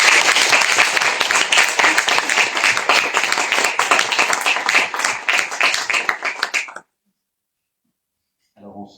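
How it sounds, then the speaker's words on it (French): An audience at a francophone awards ceremony applauds, loud dense clapping that continues for several seconds and then stops abruptly, followed by silence and a brief faint sound. "Bravo encore à vous, on peut vous applaudir."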